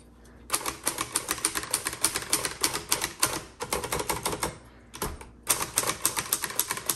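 A 1954 Hermes Rocket typewriter being typed on, a steady run of sharp close keystrokes in quick bursts with short pauses between them and no voices.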